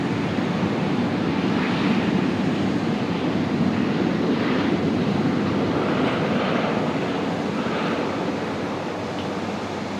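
Boeing 737 airliner in a special livery at Brisbane Airport, a broad steady engine roar holding constant and fairly loud throughout, fading slightly near the end, with no talking over it.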